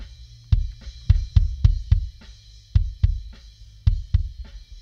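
A kick drum heard through a Beta 52 microphone, a deep thumping beat in irregular clusters of hits, close and punchy with a faint cymbal wash behind, no voices.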